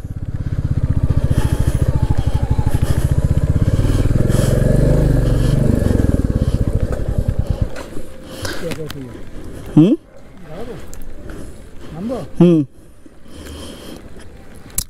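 A motorcycle engine drones loudly and steadily while riding a road from Siliguri toward the Dooars in North Bengal, then drops away as the rider talks over quieter road noise.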